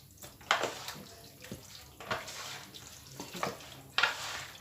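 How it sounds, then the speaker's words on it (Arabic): Chicken wings being tossed with spices and other ingredients make wet, squelching stirs in a few separate bursts, with sharper slaps standing out. It sounds close and fairly quiet, with no voices. "المهم ان احنا نقلبها كلها ببعضها كده، نخلي المكونات دي كلها تخش في بعضها"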